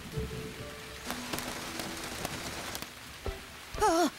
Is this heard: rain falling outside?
yes